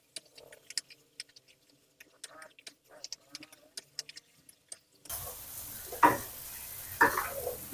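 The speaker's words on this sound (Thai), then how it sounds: "มันฝรั่งที่เราหั่นเป็นเต่าเล็กลงไปนะครับ ตรงนี้เราจะผัดให้เขาสุกก่อน" Small diced potatoes stir-fry in a pan for a homemade Japanese curry. Light clicks give way to a steady sizzle, with two sharper scrapes of stirring near the end.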